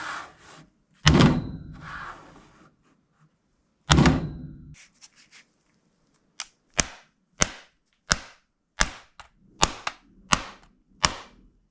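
A PS5 controller is slammed repeatedly, first in a few heavy, rumbling impacts, then in a regular run of about eight sharp, snappy cracks, close and loud with near silence between them.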